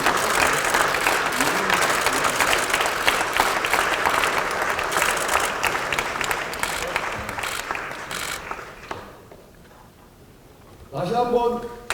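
An audience applauds at a Korean political party event honouring the emergency committee chairman. Dense, sustained clapping lasts about eight seconds and fades to near quiet, then a voice speaks.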